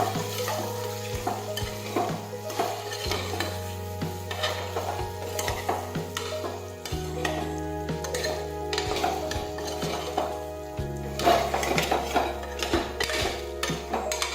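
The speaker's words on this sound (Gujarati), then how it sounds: "હવે આપણે બધા મસાલા છે તે આ રીતે મિક્સ કરી દઈશું." A spoon stirs spices into potato curry in a pan, with repeated close scraping clacks of metal against the pan over a light sizzle and a low steady hum, with no speech.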